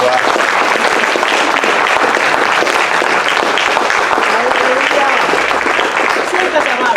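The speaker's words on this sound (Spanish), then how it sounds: "Den un aplauso al Señor." Church congregation applauding during a sermon on the Gospels, loud and continuous clapping from many hands filling the room, with voices calling out faintly beneath it.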